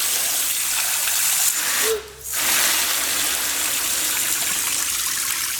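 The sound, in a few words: water from a hose filling a container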